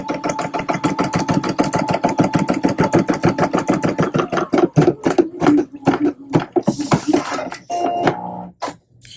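A Poolin EOC05 embroidery machine stitches a tack-down pass, its needle bar hammering in a fast, steady mechanical rhythm close up, with brief clatters and a short whirring shift near the end.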